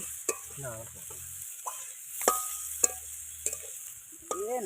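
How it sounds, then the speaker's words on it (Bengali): Shrimp fry and begin to burn in a pan for handi biryani, with a low sizzle under several sharp metallic scrapes and clinks of a stirring spoon, plus brief unclear voice sounds in the background. "এই পুড়ে যেতেছে, পুড়ে যাচ্ছে পোড়া চিংড়ি"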